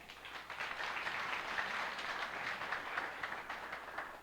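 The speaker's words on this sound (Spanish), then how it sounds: "Un fuerte aplauso." An audience at a 46th anniversary program gives steady, continuous applause, a dense wash of clapping heard at moderate distance with no one speaking over it.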